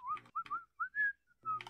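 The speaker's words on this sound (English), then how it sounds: "I like to whistle in my shower." A person whistling a short, wavering tune in a few quick phrases separated by pauses, close and fairly quiet, with a soft buzzy texture at the start and end of some notes.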